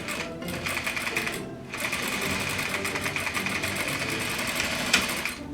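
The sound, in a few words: sewing machine sewing fabric pieces on a curve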